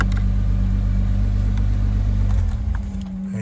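Mercedes W460 engine idling steadily with a deep, constant rumble up close, briefly revving near the end as the tone shifts, with no talk over it.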